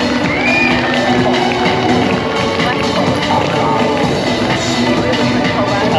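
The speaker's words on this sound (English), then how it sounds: "So let's have a nice big cheer and a warm welcome." A crowd cheers and shouts at a stunt rider's introduction outside a biker cafe in Leeds, a dense, steady roar filling the whole stretch with voices mixed in.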